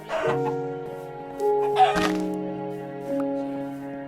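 Chickens clucking in Minecraft, a few short tonal clucks and squawks in separate bursts, clear and close against silence.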